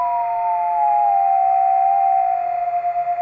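Two steady electronic audio tones from an Si5351 VFO being tuned, one sliding down in pitch until it nearly merges with the other, producing a slow beating warble at the end; loud and continuous with no voices.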